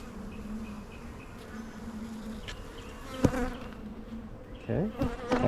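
A honey bee swarm hums steadily in a low drone, with scattered louder buzzes of individual bees passing near, and a few sharper knocks and rustles toward the end.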